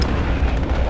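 Airstrike explosion in Call of Duty: Modern Warfare, a loud, close, low rumbling blast that fills the whole second.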